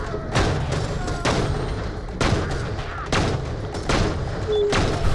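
Gunfire in the video game Borderlands: The Pre-Sequel, a string of sharp booming shots at irregular intervals, loud and close, with no talk.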